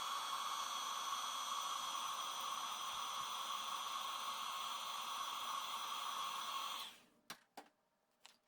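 A heat tool blows a steady, close, airy roar for about seven seconds while melting white embossing powder on a card. It then cuts off, followed by a few small clicks and handling knocks.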